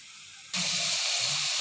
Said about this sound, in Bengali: এবার চিকেনটা ভেজে নিব।